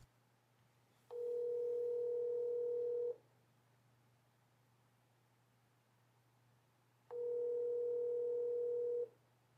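Two long ringback tones on a Samsung Galaxy S25 Ultra phone on T-Mobile 5G during a test call. Each tone lasts about two seconds, with roughly four seconds of quiet between them, over a steady low hum. No one speaks.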